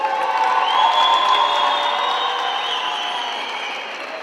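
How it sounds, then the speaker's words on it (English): A large esports arena crowd at a European championship cheers and applauds, a loud sustained roar of clapping and shouts with whistles on top that gradually eases off toward the end. "So please make some noise also for Kosovo."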